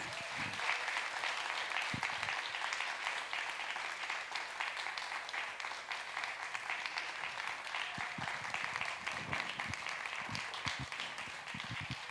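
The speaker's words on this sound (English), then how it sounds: "how about a round of applause for Dr. Phillips Center Student Jazz Orchestra" An audience at a jazz music intensive gives sustained applause for a student jazz orchestra, with steady clapping throughout and a few sharper individual claps standing out.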